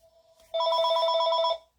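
A phone's electronic ringtone chirps in a quick, even warbling burst of about a second, loud and close, in a quiet craft room where cards are being made, then stops.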